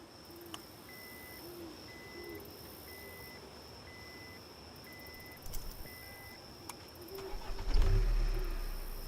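A car in the Homebody video game is started and driven, with an evenly repeating beep over steady electronic tones, and a low engine rumble swelling loudly near the end.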